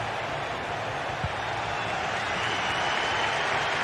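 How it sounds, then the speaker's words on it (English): A dense stadium crowd in a football video game keeps up a steady, loud roar of cheering throughout, an unbroken wall of noise with no lulls. "The crowd certainly think so. Just listen to them."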